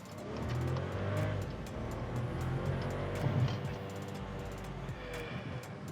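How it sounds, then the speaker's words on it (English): A 2020 Volkswagen Polo with a 1-litre three-cylinder turbo engine accelerates hard in first gear from inside the cabin, its engine note rising steadily with audible turbo whoosh. "the turbo sound is so loud, and I love that"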